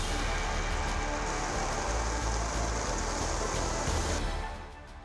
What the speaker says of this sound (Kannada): ದಕ್ಷಿಣ ಕನ್ನಡ ಜಿಲ್ಲೆಯಲ್ಲಿ ಭಾರಿ ಮಳೆ ಮುಂದುವರೆದಿದೆ.